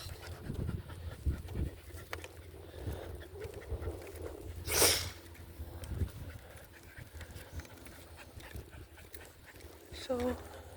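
Tired dogs panting outdoors during an adventure, quick close breaths with rustling and a sharp burst midway, while a person talks at times.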